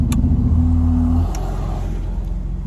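A car with a failing alternator idles after starting, a loud close engine rumble with a steady low hum that drops off partway through, then settles into a continuous running drone without speech.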